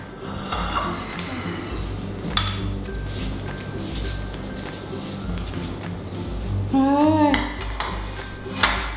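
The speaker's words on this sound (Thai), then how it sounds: "วางวางนะวาง ดูจานวางอะ" Plates are set down on a surface at home, giving close clinks and clatters of dishes and cutlery over a busy background, with a brief high voice or squeak near the end.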